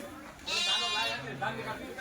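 A single drawn-out bleat from a Gujarati Nizampuri sheep rings out close by, followed by a softer call amid low background noise.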